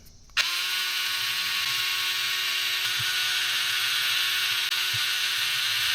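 A power driver removing four screws from the rear gearbox of a Redcat Ascent 18 RC crawler, a loud steady whine that starts abruptly and runs unbroken, close up.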